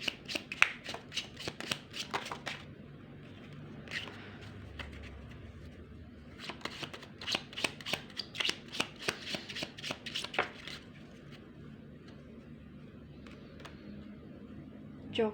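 Tarot cards being shuffled by hand make quick bursts of crisp riffling and flicking, in clusters separated by short pauses, close and fairly quiet.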